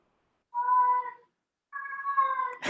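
Two drawn-out cat meows near the microphone, the first about three-quarters of a second long, the second longer and ending in a brief noisy burst.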